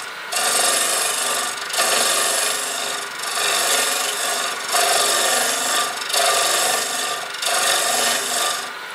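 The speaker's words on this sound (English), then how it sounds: "and now I can cut back out" A wood-lathe gouge roughs out a hollow-form bowl, producing a loud, steady, close-up rasping scrape broken by short regular pauses about every one and a half seconds.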